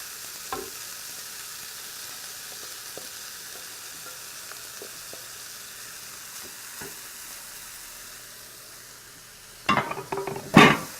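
Pork and cauliflower rice frying in a pan, a steady soft sizzle with a few faint clicks, ending in louder scraping stirs near the close.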